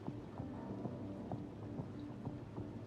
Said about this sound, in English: Oh, look at this heavy rain bullshit!